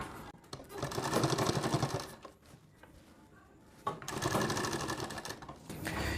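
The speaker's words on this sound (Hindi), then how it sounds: "यहाँ पर इसको ऐसा रख कर इसमें एक सिलाई लगाएंगे" A sewing machine stitches a blouse collar in two close bursts of fast rhythmic clatter, separated by a short quieter pause of handling.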